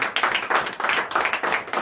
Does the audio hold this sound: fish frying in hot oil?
no